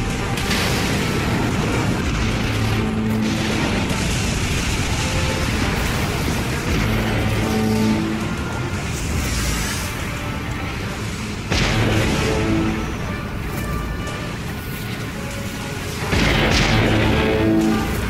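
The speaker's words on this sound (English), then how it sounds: "Enemy warhead blast on our position." Warhead blasts in the naval combat game Dreadnought, heavy booming explosions that roll in repeated waves over a constant rumbling engine and battle din, loud and close, with occasional radio-style voice callouts.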